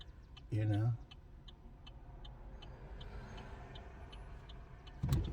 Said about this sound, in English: got all these cars coming by